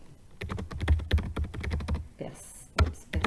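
A short text is typed quickly on a computer keyboard, giving a rapid, close run of crisp key clicks with a brief pause near the end. Speech sounds faintly in the background.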